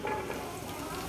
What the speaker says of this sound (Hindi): और इसको हल्का सा फ्राई करेंगे।